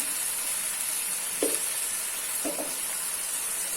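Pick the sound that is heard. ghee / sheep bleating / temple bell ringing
ghee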